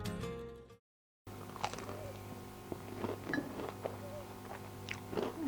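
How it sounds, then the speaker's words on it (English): A churro dipped in chocolate sauce is bitten and chewed close up after a brief silence, soft crunches and moist mouth sounds repeating irregularly over a low background hum. "I'm going to dunk the churro in the sauce and give it a bite."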